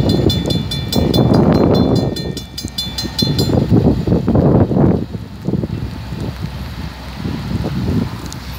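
A short NS freight or passenger train passes, a loud rumbling, clattering roar with strong wind buffeting on the microphone, swelling and fading in waves over several seconds with no talk.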